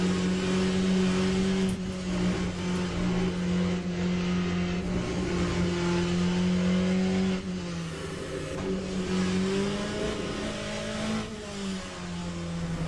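A Corvette C8.R race car in Le Mans Ultimate, its engine droning steadily and loudly, then dropping in pitch with a downshift to second gear before pulling again.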